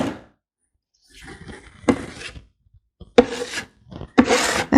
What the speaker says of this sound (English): I just am spreading it around with a trowel to get a really rich color